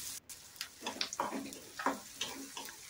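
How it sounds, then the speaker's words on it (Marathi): Onion frying in a pan with mustard seeds and cumin for a Maharashtrian stuffed brinjal dish, giving a steady soft sizzle with bursts of crackling stirring noise, fairly quiet and close, with no talking. "आता कांद्याला मी इथे छान परतवून घेणार आहे."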